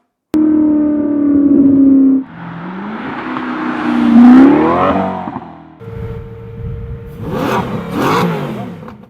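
A Lazareth-built V8 engine revs loudly in rising and falling bursts, climbing in pitch several times with short pauses between, close and alone with no talk.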